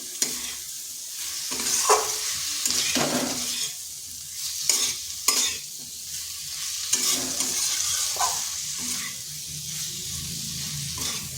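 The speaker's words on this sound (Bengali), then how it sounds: "এরপর দিয়ে দিচ্ছি আলু আর পটল। ওই মশলার সাথে বেশ কিছুক্ষণ কষে নিতে হবে।" Potatoes and pointed gourd stir-fry in a spice paste, with a steady sizzle broken by repeated scraping and clattering stirs of the pan, close and loud, with no talk.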